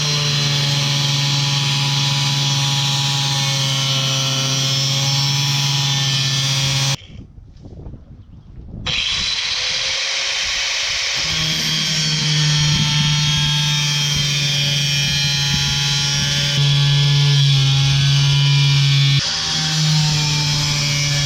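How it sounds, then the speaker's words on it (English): An angle grinder with a cutting blade and no guard cuts metal, a loud high-pitched whine that drops out for a few seconds, then spins back up and cuts again, close to the microphone. "I think the best way to cut this metal is with a grinder that has a cutting blade on it"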